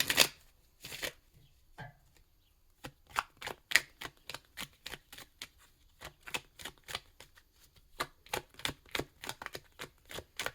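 Tarot cards are shuffled repeatedly in quick riffling bursts, close and crisp, with brief pauses between rounds.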